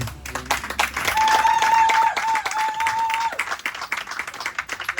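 Congregation clapping and cheering at a wedding blessing in a church, a dense, loud wash of applause that swells and then thins, with a steady held tone running through the middle.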